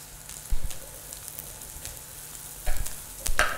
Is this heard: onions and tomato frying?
yes